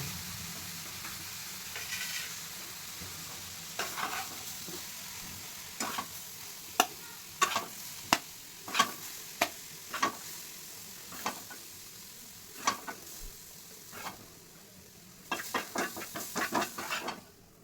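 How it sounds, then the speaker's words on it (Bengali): Carrot fries in ghee to a soft, low sizzle, punctuated by regular sharp taps and scrapes of a spatula stirring the pan, which grow busier toward the end. "এবার আমি গাজরটাকে একটু ঘি দিয়ে ভেজে নেব।"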